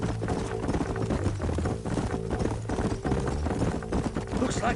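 Horses' hooves clip-clopping in Red Dead Redemption, a steady, rhythmic trot of several horses close by, continuous throughout with a voice talking over the hoofbeats.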